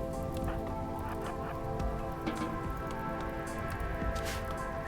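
Rain falls in the video game RimWorld, a dense, steady patter of drops that runs evenly throughout without a break.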